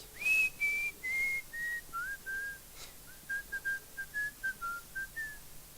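Clear, shrill whistled notes from a person imitating a bird: a long gliding tone, then a run of short chirpy pitches repeated in a bird-like pattern, close and alone.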